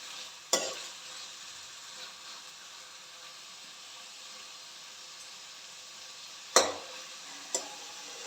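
Eggplant, onion and tomato cooking in a pan into a gravy-like masala, a steady quiet sizzle with a few sharp clacks of a utensil against the pan, no talking.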